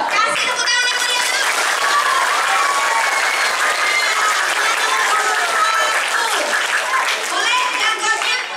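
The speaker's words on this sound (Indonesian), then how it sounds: "Kasih tepuk tangan yang meriah." At a school student council election debate, a crowd of students bursts into loud, lively applause and keeps clapping throughout, with excited young voices and cheers mixed into the noise.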